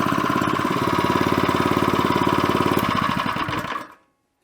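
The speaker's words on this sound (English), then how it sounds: "what I wanted to look at here is how true this pulley is running" New motor on a scuba compressor spinning its pulley, a loud close rapid rhythmic chugging drone that runs steadily then cuts off abruptly near the end.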